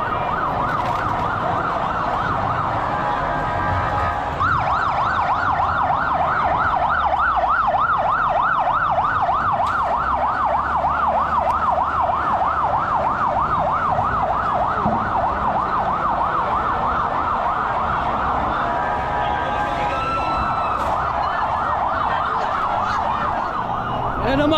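Police sirens wail continuously at a street protest at Mendiola, loud and close with repeated rising and falling cycles, over crowd noise and traffic, with occasional voices.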